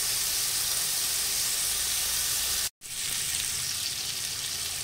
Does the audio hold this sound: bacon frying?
yes